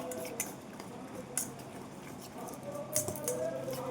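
Homemade chocolate cake batter being stirred and mixed by hand in a bowl, soft squishy strokes with a few sharp clicks of a utensil against the bowl, quiet and close.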